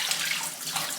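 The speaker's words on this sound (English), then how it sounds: "I know there's steam coming out of my hot water bottle, but I'm topping it back up because it felt cold." Hot water poured into a hot water bottle makes a soft, close trickling gurgle for a brief moment, quiet and without talk.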